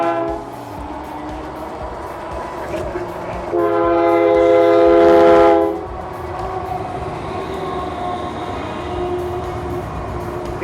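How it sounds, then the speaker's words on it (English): A long train rumbles steadily past nearby, its horn blaring loudly for a couple of seconds midway before the steady rolling noise continues. "These are long trains."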